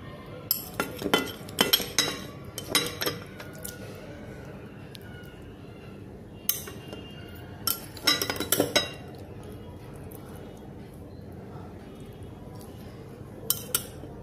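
Cutlery and plates clink during a home dinner of lau shak greens cooked with prawns, in scattered clusters of sharp metallic taps separated by quiet pauses.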